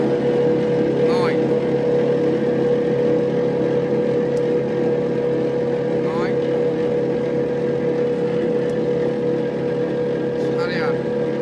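A gear-driven motor machine, run by 10 and 5 horsepower motors, drones loudly and steadily in a lachha semai factory, with a constant humming whine and a few brief squeaks.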